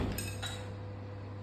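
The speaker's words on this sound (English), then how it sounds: "I'm wiping clean my chopstick, wiping clean my spatula" A chopstick and a spatula being wiped clean, giving two quick light metallic clinks close by, then a quiet steady hum with nothing else.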